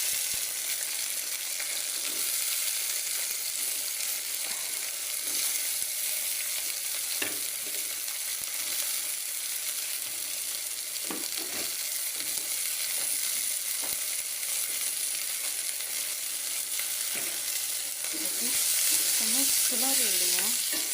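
Sundakkai (turkey berries) sizzle and fry in a pan of sautéed ingredients, a loud, constant hissing crackle with occasional stirring scrapes, and a brief voice near the end.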